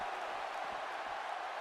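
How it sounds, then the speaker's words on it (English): A WWE video game wrestling crowd cheers at a steady, faint roar, a broad hiss of applause and noise for under two seconds, with no voices standing out. "listen to this crowd come back alive"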